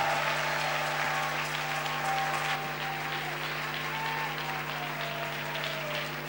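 A church congregation applauds steadily and loudly throughout, with a few cheers mixed into the dense, sustained clapping over a faint sustained musical tone.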